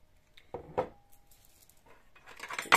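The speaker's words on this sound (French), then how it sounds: "je vais mettre plusieurs cuillères à soupe de Nutella" A tablespoon scoops Nutella into a bowl, making a few close, light clinks and scrapes of metal on dishware with short quiet gaps between them.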